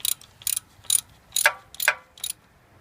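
A ratchet wrench clicks in six short, close bursts while loosening a thermostat housing nut on a Honda Civic. Quiet gaps separate the bursts and no one speaks.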